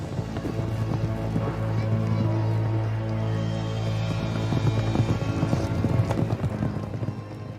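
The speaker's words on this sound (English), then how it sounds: "Horse racing at Ludwigslust." Horses gallop at a race in Ludwigslust, Mecklenburg, in old footage, a fast, steady clatter of hooves throughout, fairly loud over a sustained tonal background.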